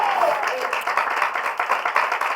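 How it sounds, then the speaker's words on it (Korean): Church congregation at a Sunday morning worship service clapping, a brief patch of rhythmic, moderately loud hand claps with some voices mixed in. "우리 하나님께 박수로 영광 돌리고"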